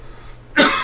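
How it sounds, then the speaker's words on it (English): A single sharp cough, close and loud, after a brief quiet moment. "I don't know if that was someone coughing or me coughing"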